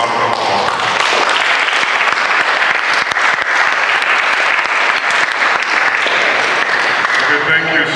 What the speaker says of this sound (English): Could you give yourselves a round of applause?